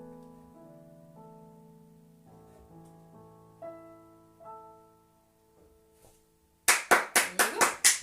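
After sustained notes of a song fade out, a small audience claps in a short burst of sharp, close hand claps that rises loud and ends quickly.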